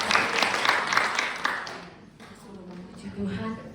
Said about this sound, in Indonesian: Kita mau tepuk tangan sekali lagi untuk Tuhan.